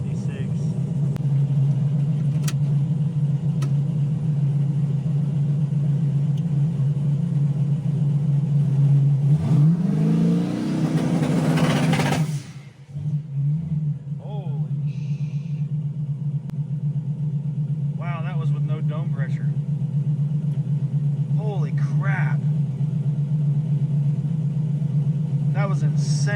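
A car engine fresh from a cooling system repair idles with a steady deep rumble, rises in one rev before dropping back, and then settles into an even idle.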